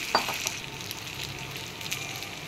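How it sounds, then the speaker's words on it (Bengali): Egg and noodle mixture poured into a frying pan with a little oil, giving a soft, steady sizzle with a few faint clinks near the start, quiet and close, no talking. "ডিম আর নুডলসের মিশ্রণটাকে প্যানে দিয়ে"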